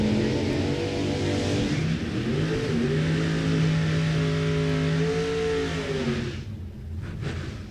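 A 1975 Corvette and a Mustang rev hard side by side at a drag strip start, loud rising engine tones building and holding before cutting off near the end, with crowd and track noise behind.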